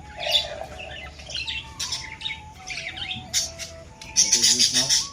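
Pigeon squawks and chirps in bursts near the listener, with a steady high tone running underneath and brief flutters between calls.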